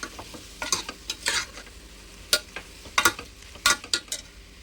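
A spoon scrapes and stirs beetroot palya with tamarind juice in a pan, giving irregular clinks and soft sizzling bursts over a quiet background hiss.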